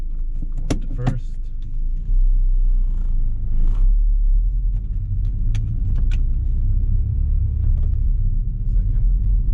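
2010 Honda Fit Jazz GE8 hatchback with a little motor-mount vibration pulling away in first gear, an engine rumble that rises and holds steady from inside the cabin, with a few clicks and rattles early on.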